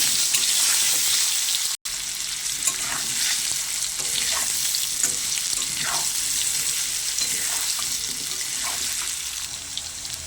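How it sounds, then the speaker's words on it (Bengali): Potatoes fry in hot oil, giving a continuous close sizzle and bubbling hiss, broken by a brief dropout early on and by soft scraping stirs at intervals. "কপিটা আমার ভাজা হয়ে গেছে, এবার আলুগুলো ভেজে নেব।"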